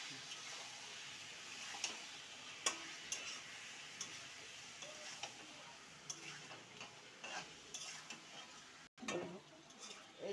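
Lote fish stirred in a frying pan with ridge gourd, light scraping and tapping of a spatula over a soft, low sizzle, quiet and close, with scattered clicks.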